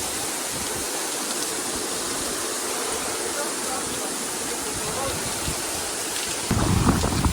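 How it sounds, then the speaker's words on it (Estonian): Heavy rain pours steadily outdoors beside a swimming pool in Spain, a dense continuous hiss that swells louder near the end. "Nagu näete, korralik vihm."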